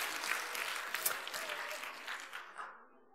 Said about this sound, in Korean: 여러분 박수 한번 보내드리고 싶지 않습니까?